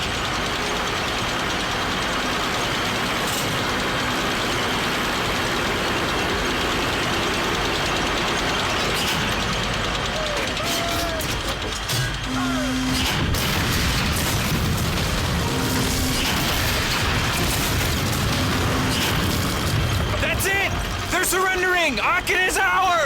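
An M12 big gun rolls in and fires in a Call of Duty: Finest Hour cutscene, heard as deep booms and rumbling engine noise beneath voices and battle din.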